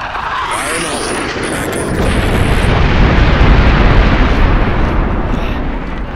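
Air strike explosions in the video game Ghost Recon Advanced Warfighter 2 build into a loud, rumbling barrage of blasts. High-pitched tones ring out over the start before the roar swells and holds steady.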